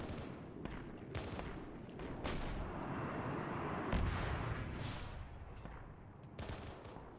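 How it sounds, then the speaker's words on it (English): Rockets explode across a sci-fi battle between UNSC forces and Space Marines, bursts and cracks scattered over a rumbling battlefield din, moderately distant, with a heavier blast near the middle and no talking. "Rockets are doing a good job blowing shit away."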